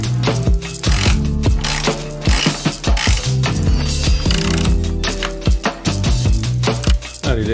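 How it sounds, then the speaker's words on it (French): A ratchet or wrench clicks repeatedly as M6 bolts are tightened through a wooden storage structure for a converted Dacia Duster 4x4. The ratcheting is close and loud, in quick bursts with short pauses, and no one speaks. "on va mettre du boulon en M6 qui traverse pour fixer tout ça"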